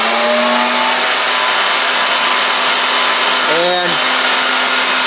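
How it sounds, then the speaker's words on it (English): The vacuum motor of a hobby vacuum former runs at a loud, steady roar throughout, a constant broadband whoosh with a brief tonal wobble near the end. "this is going to run the vacuum motor. You're not going to be able to hear me talk from it, because this is a very loud motor."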